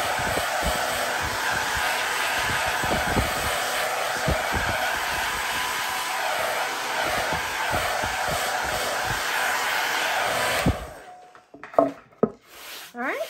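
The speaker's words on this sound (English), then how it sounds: "I'm going to just touch it with a blow dryer for a minute" A handheld blow dryer drying paint on a black cat stencil craft, running as a steady loud whir for about ten seconds before switching off, followed by faint handling sounds.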